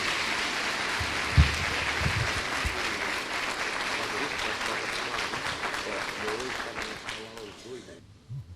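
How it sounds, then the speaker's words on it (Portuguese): A church congregation applauds in sustained, busy clapping, with a few voices mixed in before it tapers off near the end. "Aplauda Jesus na vida dele."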